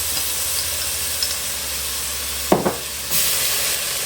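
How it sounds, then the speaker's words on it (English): Garlic sizzles in a pot with carrots, a steady close frying hiss, broken by a couple of brief stirring clatters partway through. "I'm going to add some garlic."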